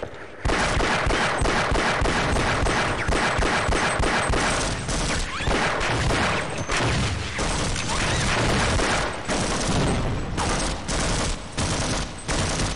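Sustained loud shooting in Half-Life: Opposing Force from 1999: fast repeated gunshots and bursts hammer away close up for over ten seconds, with occasional heavier booms mixed in.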